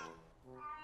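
A cartoon cat meows once, briefly and faintly, in the Xbox Live Indie game Stick Massage by Stegersaurus Games.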